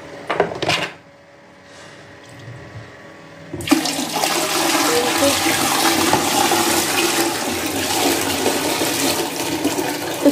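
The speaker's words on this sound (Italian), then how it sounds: "qui devo buttare tutta l'acqua, perché altrimenti così non so come fare" Dirty cleaning water poured out into a toilet and flushed: a few brief splashes and a quiet pause, then a loud rushing flush that roars on steadily to the end.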